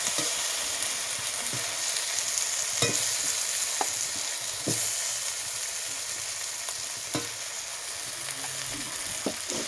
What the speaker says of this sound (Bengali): এখন আমি দিয়ে দেবো সেই ভেজে রাখা আলুগুলো